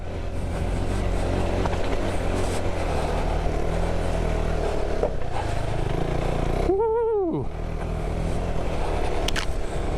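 An off-road motorbike labours up a steep hill, its engine droning steadily and loudly for the whole stretch, with a brief high whine sweeping down midway, and no talking.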